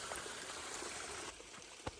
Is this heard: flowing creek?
yes